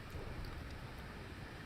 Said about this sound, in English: Luckily it's raining.